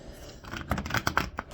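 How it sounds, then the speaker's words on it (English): Tarot cards are shuffled by hand close to the microphone, a quick run of soft papery riffles and crisp snaps that speed up, with no talking. "now one more shuffle"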